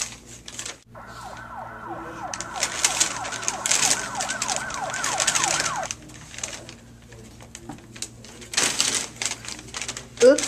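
An ambulance siren wails in a steady repeating sweep for several seconds, loud and fairly close, then cuts off, with other noises and voices around it.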